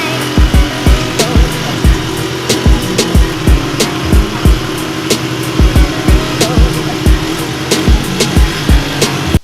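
A Honda XR70 dirt bike engine fires up and runs with a rough, uneven idle and repeated blips of throttle, heard up close and loud, sharp exhaust pops over a continuous buzzing drone.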